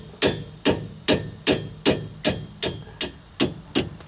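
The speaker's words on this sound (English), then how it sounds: "Now we're just going to take a hammer and just pound on the end of that nut" Ten sharp metallic hammer strikes on the end of a strut bolt nut on a Chevy Cobalt, in a steady, even rhythm, each ringing briefly, close and fairly loud with a faint hum underneath.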